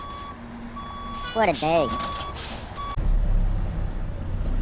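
A tow truck's reversing alarm beeps in a steady repeated pattern beside a road on-ramp in Los Angeles, with heavy truck engine rumble and someone speaking briefly over it.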